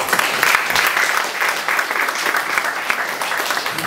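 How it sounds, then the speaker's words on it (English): Church audience at a graduation event claps steadily in a close, full round of applause that lasts throughout without any talking. "can we clap our hands for him?"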